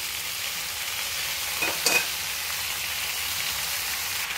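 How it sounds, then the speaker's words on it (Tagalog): Vegetables for pakbet sizzle steadily in a hot pan while being stirred, with a constant frying crackle and a brief scraping clatter of the utensil partway through. "Halo-haloin natin. Lagay na din lahat ang ating mga gulay."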